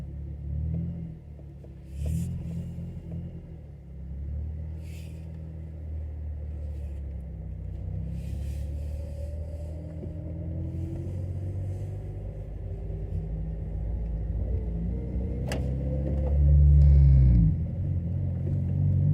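An Acura TSX with adjusted camber drives on a test run with a window down, giving a steady low cabin rumble of road and engine noise that swells louder near the end, with a few faint clicks.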